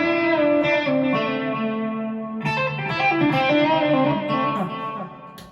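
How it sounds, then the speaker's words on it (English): Electric guitar played through a Peavey Vypyr X2 amp on a tube screamer preset, sustained overdriven chords and notes ringing with rich harmonics and a shimmer of effects, a fresh strum partway through, loud and alone. "I set it up for the tube screamer."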